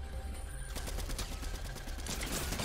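Automatic gunfire in a Fortnite match, rapid bursts of shots rattling continuously over a couple of seconds, fairly close and dense with no talk over it.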